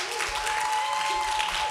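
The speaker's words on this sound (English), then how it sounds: "They're clapping for you." Applause fills a church during a Good Friday service, a steady wash of many hands clapping at moderate loudness throughout, with a sustained tone running underneath.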